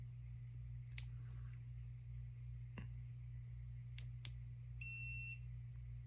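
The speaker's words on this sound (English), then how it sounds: "and this should send out a beep." A Luoymbe dog training collar gives several short, faint electronic beeps and chirps, spaced irregularly and ending in a brief rapid trill, against a steady low hum in a quiet room.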